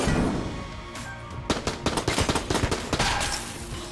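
Rapid bursts of revolver and pistol gunfire from the Enter the Gungeon video game, starting sparse and becoming a quick run of sharp, evenly spaced shots, loud and close with no talking.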